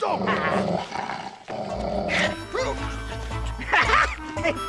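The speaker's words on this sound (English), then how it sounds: "That dog is vicious and ought to be locked up." Dog growling and snarling in a dramatic indoor scene, a low rumbling growl that swells louder toward the end, close by, with people talking over parts of it.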